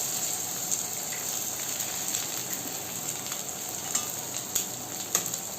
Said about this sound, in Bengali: আপনার ডিম আর পেঁয়াজ এইভাবে ঝুড়ি করে ভাজবেন।